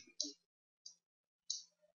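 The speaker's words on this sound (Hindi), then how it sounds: "हम यदि कंट्रोल के साथ में ये एरो प्रेस करेंगे" Three sharp, quiet clicks spaced apart, made by pressing arrow keys with Control on a computer keyboard, each a crisp tap in near silence.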